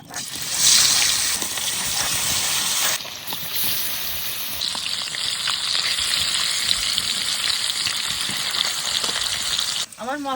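Fish coated in salt and turmeric frying in hot mustard oil in a village kitchen, a loud continuous close sizzle that shifts in intensity as pieces are added and moved, with a brief voice near the end.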